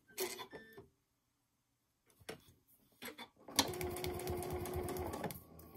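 A sewing machine stitches a paper-pieced seam on a tiny heart block, starting with a few short bursts and clicks, then running in a steady close rattling whir for a couple of seconds.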